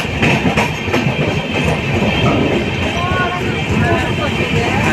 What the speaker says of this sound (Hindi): देखना इसका स्पीड कितना जल्दी रफ्तार पकड़ेगा।